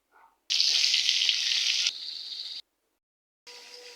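Fish frying in oil gives off a loud, close sizzle in two bursts separated by a short silence, with no voices.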